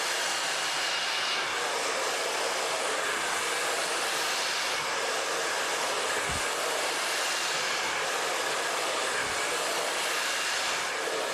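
A blow dryer works through hair lengths on a brush with a loud, constant rushing whoosh that never lets up, and a couple of faint low knocks sit beneath it.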